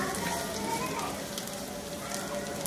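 Chopped garlic and onions fry in a pan for an egg and eggplant dish. Close, bright, continuous sizzling crackles steadily throughout.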